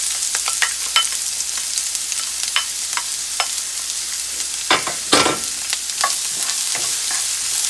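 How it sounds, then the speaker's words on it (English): Onions sautéing in a skillet for salmon patties, a steady soft sizzle with scattered crackles and a couple of louder scraping stirs near the middle. "So I'm gonna let this saute for about 2 minutes, 2 to 3 minutes really."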